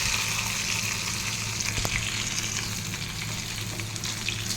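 Onion and cashews fry in a pan for a vegetable pulao, giving a continuous, loud, even sizzle from start to finish with a brief stirring scrape in the middle.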